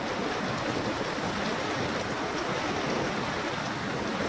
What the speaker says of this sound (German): Nach langer Zeit wieder ein Vormittag mit stürmischem Regen